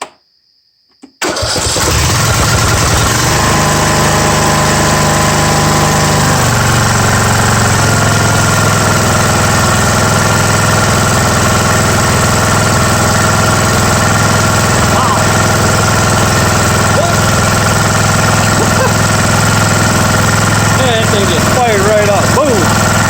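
A fresh 19 hp Briggs small gasoline engine sputters to life on its first start after a brief quiet moment, then runs loud and steady with a rough, throbbing exhaust drone.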